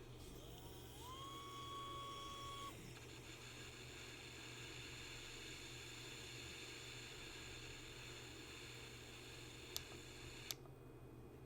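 Motor of a Rhino Slider EVO Carbon 24-inch motorized arc running, a faint steady electric whine and hum that continues throughout, with a rising tone at the start and a couple of sharp clicks near the end.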